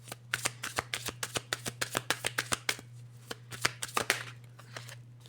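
Tarot cards being shuffled and drawn by hand, a rapid series of crisp papery snaps and riffles, close and fairly quiet, over a steady low hum, with no talking.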